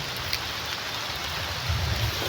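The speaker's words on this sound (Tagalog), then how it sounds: "Lakas na yung ulan." Heavy rain pours down steadily on a vegetable garden, a dense, continuous hiss of drops drumming on surfaces.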